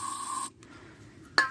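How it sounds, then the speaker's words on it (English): A short, close hiss of carburetor cleaner sprayed into the engine of an old Echo string trimmer, heard as a steady burst at the start and a brief sharp squirt near the end. "I'm going to take some carburetor cleaner and spray it in here"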